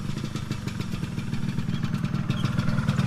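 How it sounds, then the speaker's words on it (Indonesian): A 1995 Yamaha RXZ two-stroke motorcycle idles close by through its original exhaust, giving a steady, burbling, slightly rattly engine note throughout. "Lihat dong suara knalpotnya. Knalpotnya masih orisinil banget."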